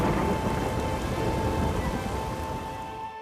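Rain and thunder in The Witcher 3: Wild Hunt, with a steady wash of rainfall under a deep, lingering rumble of thunder that slowly fades over a few seconds, no voices.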